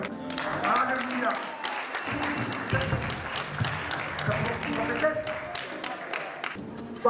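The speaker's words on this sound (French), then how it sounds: "Est-ce qu'on peut acclamer le Seigneur?" Worship congregation at a francophone pastors' church gathering applauding and cheering the Lord, a sustained wash of clapping with voices mixed through it, steady and fairly loud throughout.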